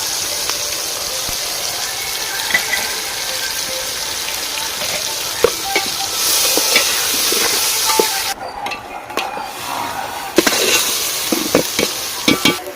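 Spices and rice for a pulao-style dish frying in a pan, a continuous hissing sizzle with repeated scraping stir strokes that grow busier toward the end, no talk.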